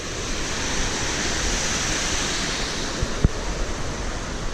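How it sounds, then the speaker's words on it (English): A small river rushes steadily into the Neretva River at Mostar, a broad, continuous roar of flowing water close by with wind-like hiss and a couple of faint knocks, no talking. "this little river flows into the Neretva River over there"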